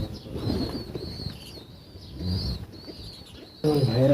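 Pigeons in a loft coo softly in low murmurs while wings flap in short bursts, fairly close, ending with a louder flurry of flapping.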